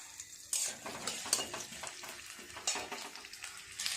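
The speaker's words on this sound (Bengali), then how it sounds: "মশলাগুলো একটু নেড়েচেড়ে ভাজা করে নেব" Tomato, onion, ginger, garlic, cardamom, cinnamon and cloves frying in a pan while being stirred. A continuous close sizzle is broken by several sharp scrapes and clinks of the stirring spoon.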